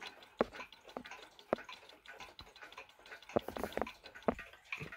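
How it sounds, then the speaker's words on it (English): Escapement of a Bulova Westminster ATO-MAT bracket clock ticking softly and irregularly in the foreground, a light clicking tick-tock heard alone. "The escapement does make just a small amount of noise."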